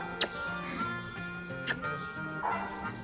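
A dog at an adoption shelter gives a few short, sharp barks at separate moments over a steady tonal background, fairly close and moderately loud.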